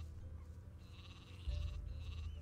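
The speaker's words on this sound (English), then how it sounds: "Man, so many sheep." Sheep in the Gothic II mod game bleat faintly over quiet background ambience, with a few drawn-out calls growing louder toward the end.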